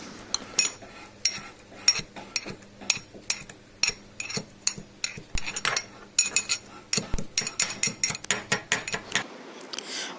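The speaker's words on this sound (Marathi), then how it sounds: "सो ही वेलची करूया बारीक कुटून खलबत्त्यात" Cardamom pounded finely in a mortar and pestle: a steady run of sharp, ringing knocks, some quick and some spaced, close and fairly loud, stopping just before the end.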